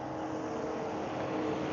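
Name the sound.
loud Mercedes car driving past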